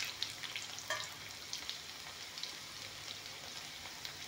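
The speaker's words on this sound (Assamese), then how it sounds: "সেইকাৰণে পিঁয়াজখিনি ভালকৈ ভাজি ল'ব লাগে" Onions frying in a pan give off a faint, steady sizzle and crackle with a few small pops, heard alone.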